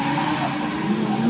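A street-racing car with a stiff carbon-carbon clutch doing a burnout, tires skidding and squealing against a steady engine roar, loud and continuous for the whole moment.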